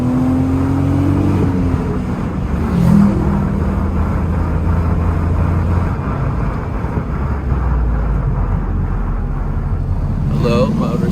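A car engine at full throttle in first gear on a mountain road heading toward the Stelvio Pass, a loud sustained roar with rising pitch that dominates throughout, with someone talking over it.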